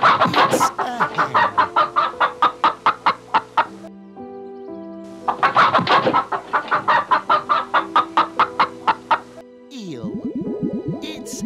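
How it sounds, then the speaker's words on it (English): Hen clucking in rapid repeated bursts, close and loud, with runs of sharp clucks separated by brief pauses and a squawking trail at the end. "Hen. It's a hen."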